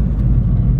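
An Abarth 595 Turismo small turbocharged car runs in normal mode. It gives a low, steady engine rumble, loud and close, for under a second with no talk over it.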